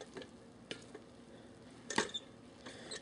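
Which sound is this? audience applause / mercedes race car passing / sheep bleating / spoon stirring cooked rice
spoon stirring cooked rice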